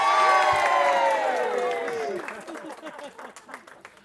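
Wedding guests burst into loud cheering and applause after a speech, a dense roar of whoops and clapping that fades into scattered claps and chatter.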